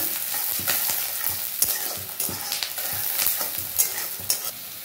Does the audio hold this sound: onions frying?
yes